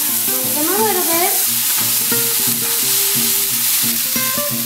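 Potatoes fry in a hot pan with a steady, loud sizzle while they are stirred and moved around. Music plays in the background.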